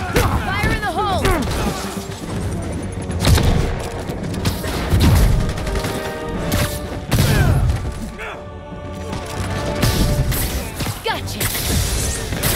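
Loud bursts of blasts and rapid gunfire-like impacts in Spider-Man Remastered, with thuds, shattering and mechanical clatter, under intermittent character dialogue.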